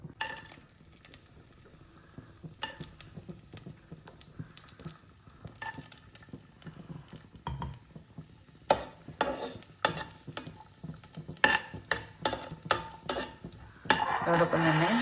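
Nuts fried in hot ghee in a pan for sabudana carrot kheer, with a spoon scraping and clinking against the metal in repeated bursts over a quiet sizzle that grows louder and steadier toward the end.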